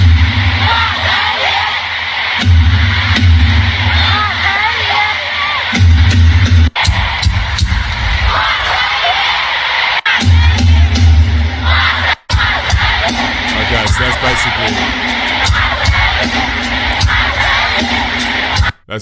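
A concert audience screams, cheers and yells in a loud, sustained roar after a song, with waves of shouting that swell and drop.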